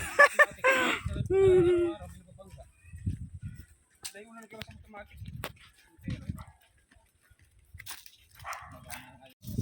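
A dog barks a few times near the start, then voices chatter and laugh over outdoor background noise.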